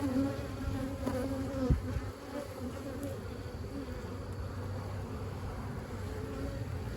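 Russian honey bees hum at an open hive, a continuous close buzzing swarm with a brief knock early on, steady and fairly loud throughout.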